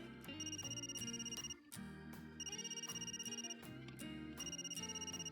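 A video game phone rings with an incoming call, a repeated electronic ringtone in regular bursts with a short break partway through, playing alone over light background music.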